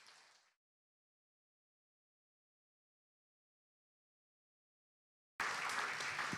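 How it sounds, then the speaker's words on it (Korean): Audience applause at a business and human rights ESG conference, a brief tail of clapping at the start, then silence, then a loud dense burst of many hands clapping near the end. "발표자 네 분 모두에게 다시 한번 감사의 박수 부탁드리겠습니다"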